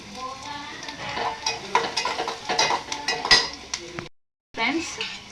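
Okra curry masala for a North Karnataka bhendi palya fries in a pan under brisk, continuous stirring, with sizzling, metal utensil scrapes and light clinks, close up. The sound cuts out briefly near the end, then resumes.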